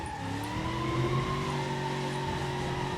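Car wheels spinning and slipping in BeamNG.drive, a continuous engine whine with rising tire squeal, steady and fairly loud throughout.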